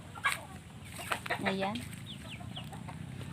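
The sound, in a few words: chicken clucking on a farm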